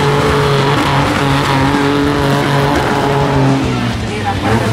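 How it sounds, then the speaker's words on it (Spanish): A 4x4 off-road race vehicle, in a six-cylinder class at a final in Panama, runs its engine hard around the track. It gives a loud, steady, close roar with shifting pitch and tire noise, with talk over it. "Este fue el último recorrido de ese motor en pista 4x4."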